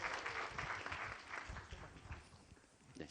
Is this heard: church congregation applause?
yes